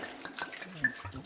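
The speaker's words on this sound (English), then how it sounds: "And now we're gonna pour the wine." Red wine pours into a cooking pot for boeuf bourguignon, a brief, soft liquid splash and trickle heard up close over quiet kitchen background.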